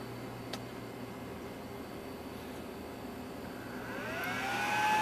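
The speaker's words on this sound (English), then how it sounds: "So you'll hear the fan going." A computer fan after a TPM reset, a faint steady whir that swells louder and rises in pitch over the final second as it spins up.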